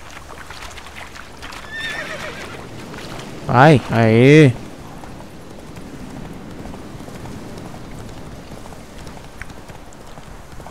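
A horse in The Witcher 3 video game gives one loud, sharp whinny partway through, over steady galloping hoofbeats. Someone speaks briefly before and after it.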